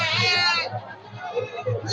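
Native goats bleat at a busy livestock market, with a loud, close wavering bleat at the start and quieter bleats later under steady crowd chatter and people talking.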